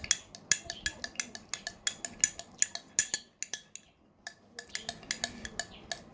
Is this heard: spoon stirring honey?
yes